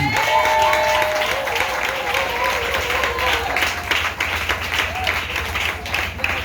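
A church congregation applauds in acclaim of Jesus. The clapping is dense and sustained, with crowd noise and a voice speaking over it.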